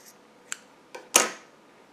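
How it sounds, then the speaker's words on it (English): Scissors trimming a loose yarn end on a small crocheted amigurumi Siberian husky piece, two faint light clicks followed by one sharper, closer snip that fades quickly in a quiet room. "just trim your loose yarn end"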